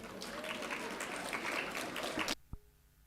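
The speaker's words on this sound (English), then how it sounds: "We request our audience to kindly applaud for our award winners." An audience at Shri Ram College of Commerce's annual day applauds award winners, sustained clapping that stops abruptly, followed by a single faint knock in near silence.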